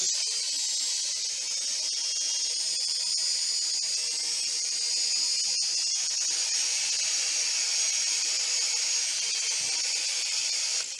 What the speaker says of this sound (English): we have a fault with the motor, as you'll see in a minute